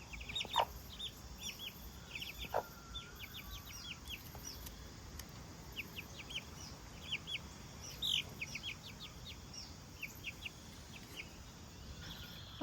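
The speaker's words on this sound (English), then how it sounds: "Well, here are our chickies." Young chicks give high, thin cheeping and peeping calls in scattered bursts, with occasional soft clucks, over a quiet background hum. They sound close but faint and keep up a steady chatter throughout.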